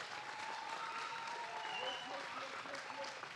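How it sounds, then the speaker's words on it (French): A church congregation applauds for Maman Babette, a continuous wash of clapping and crowd noise at a moderate distance, steady throughout with faint voices mixed in. "Est-ce qu'on peut acclamer pour elle?"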